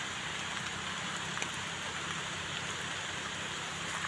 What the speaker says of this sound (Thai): น้ำมาแล้วครับ